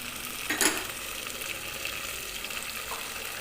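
Ginger paste frying in a curry, a soft steady sizzle with a brief louder stir-scrape burst near the start, then an even low hiss with no voices.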